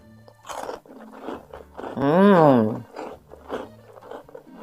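Crisp crunching bites of a dark chocolate cookie close up, interrupted by a drawn-out appreciative hum and some talking.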